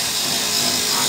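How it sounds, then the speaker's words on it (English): Power sander working on the outside windows of a historic apartment in Chiatura, Georgia, a steady high-pitched whirring hum heard alone for a moment. "sanding the outside windows."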